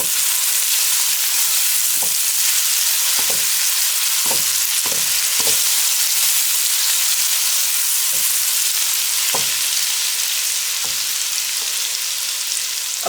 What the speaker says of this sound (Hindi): जिंजर गार्लिक, थर्टी सेकेंड के लिए इसको फ्राई करेंगे।